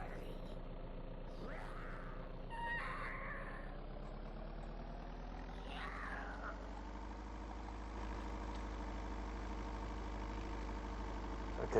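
A school bus engine idles in the video game Vein, a low steady mechanical drone that runs evenly throughout with a few faint incidental sounds over it.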